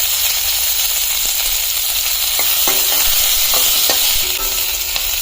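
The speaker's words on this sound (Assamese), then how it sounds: "এখিনি অলপ ৰঙা বৰাকে ভাজি লওঁ" Onion, green chillies and bay leaves frying in oil in a pan, a constant close sizzle with scattered clicks and scrapes of stirring.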